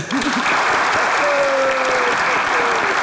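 An audience applauds steadily throughout, dense and loud, with a few faint whistles rising above the clapping.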